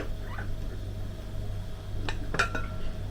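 A few light clinks of a glass tagine dish being handled, sharp and brief, over a low steady hum.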